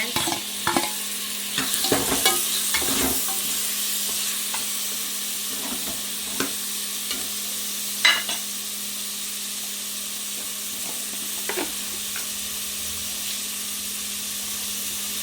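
Chopped onion and tomato sautéing in a pan for a chicken and mutton curry, with a steady close sizzle and hiss broken by scraping stirs and occasional clinks of a spoon against the pan.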